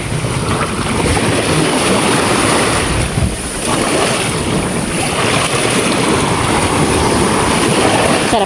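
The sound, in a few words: seaside wind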